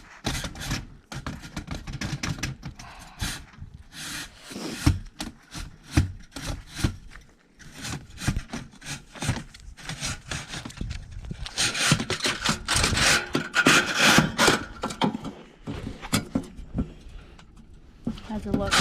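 Stiff chimney brush scraping and rubbing through a wood stove flue on an off-grid homestead roof in winter, a dense run of rough, rhythmic scrapes and knocks, fairly close and loud, with voices talking over parts of it.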